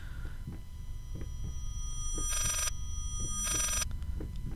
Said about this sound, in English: I know that was the phone.